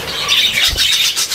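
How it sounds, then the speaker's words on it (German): A pet budgerigar gives a short burst of high, scratchy chirps and squawks, close and fairly loud, with no voices over it. "Das ist der Thomas-Vogel"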